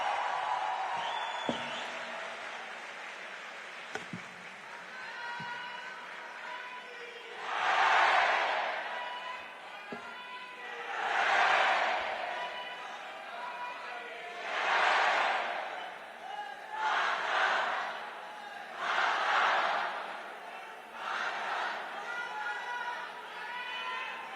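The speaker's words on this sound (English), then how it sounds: "Please give a huge round of applause for Shubhanshu Shukla, sir." Audience applause for astronaut Shubhanshu Shukla at a youth dialogue event, rising in several loud swells of clapping and crowd noise separated by quieter gaps, with talk in between.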